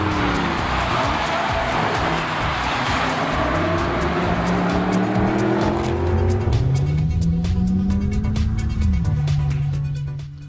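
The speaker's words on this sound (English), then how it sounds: "there you start to pick up a lot of that CLA 45 engine note. It's a 4-cylinder Brap" A Mercedes-Benz CLA 45 AMG's turbocharged four-cylinder engine revs hard on a race track, a loud raspy drone rising steadily in pitch through a gear, dropping at a shift and climbing again, with no talk.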